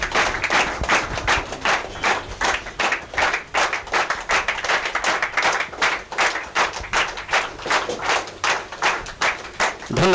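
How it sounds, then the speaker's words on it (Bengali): Seminar audience applauding at a network-marketing business opportunity event, steady dense clapping from many hands sustained throughout with rhythmic surges, loud and close, with no talk over it. "প্লিজ বন্ধুরা করতালি চলবে।"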